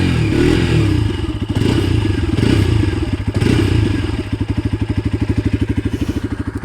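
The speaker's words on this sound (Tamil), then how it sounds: "இதோட எக்ஸாஸ்ட் நோட் ஐடியில் இப்படி தான் இருக்கும்." A Bajaj Pulsar RS 200 BS6 motorcycle engine idling and being revved, its exhaust note rising and falling in several swells before settling into a loud, steady, rapid pulsing thrum up close.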